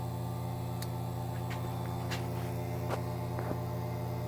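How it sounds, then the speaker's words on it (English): A vacuum pump runs steadily while vacuum bagging wood veneer, giving a constant low mechanical hum with a few faint clicks and ticks over it, close and unbroken. "the pump, this particular pump will cycle on and off"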